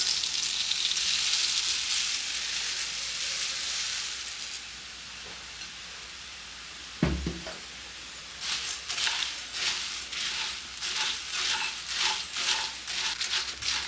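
Plain puffed rice (kadlepuri) sizzles in a pan on low flame for a Kannada masala chivda snack, then is stirred with a spoon in a rhythmic series of close rustling, scraping strokes.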